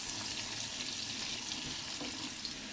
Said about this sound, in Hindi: ऑयल गर्म हो गया। अब हम प्याज डालेंगे